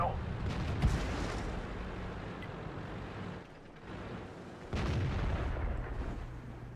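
Tank cannon shots in the video game World of Tanks, with a loud boom near the start and another heavy blast about two-thirds through over a steady rumbling battle ambience. Speech sits faintly in the mix.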